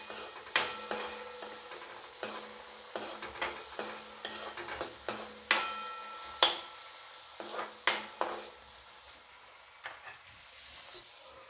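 A spoon scraping and stirring tomato and chili into leftover masala khichdi in a pan, a series of sharp metallic clinks and scrapes at an uneven rhythm over a faint sizzle, close and alone.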